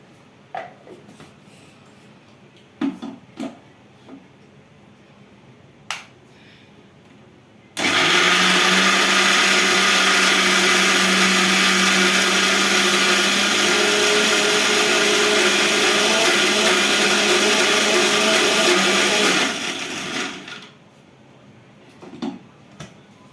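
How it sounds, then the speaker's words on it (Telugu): An electric mixer grinder blends soaked soybeans and urad dal into batter for idli: a loud, continuous whirring motor that runs about twelve seconds and then stops, with faint knocks and clatter in the quieter stretches before and after. "వేసి మిక్సీ అయితే పట్టేసుకుందాం ఇప్పుడైతే"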